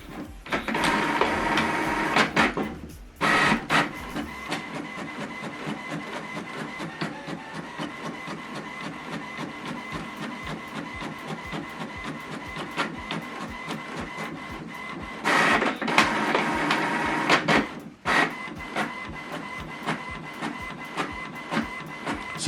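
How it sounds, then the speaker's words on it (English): An HP printer prints a single-page document sent from an Android phone, with a steady mechanical whir and rapid rhythmic clicking of paper feeding, broken by brief louder motor surges and pauses. "So this document now is printing."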